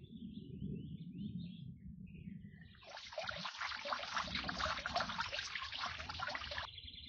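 Water pours and trickles onto planted flowers in a steady stream for a few seconds, after a low rumbling stretch, with light chirpy tones around it.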